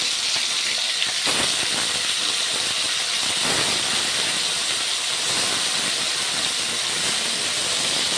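Loud, continuous hiss of spice-marinated fish frying in hot oil, a bright steady sizzle with a couple of brief louder crackling surges.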